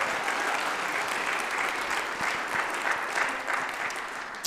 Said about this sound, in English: Give it a round of applause for our soloists.